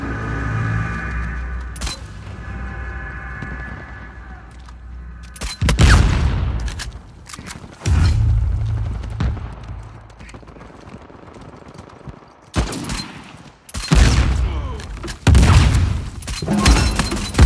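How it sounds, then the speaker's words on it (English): Gunfire rings out in loud, sharp bursts, with several heavy volleys and clusters of shots separated by quieter stretches of background noise. "sound of gunfire."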